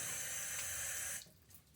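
Faint hissing water runs steadily for about a second, then cuts off, leaving quiet room tone.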